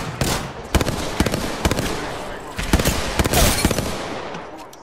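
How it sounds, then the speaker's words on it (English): Gunfire in the battle royale game Apex Legends comes as rapid bursts of sharp shots in several clusters, loud and close, with no talking. "Shot fired at me."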